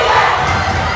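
A home crowd roars through a varsity girls basketball game in a gym, the broad sustained cheering loud and continuous over a low rumble of thuds.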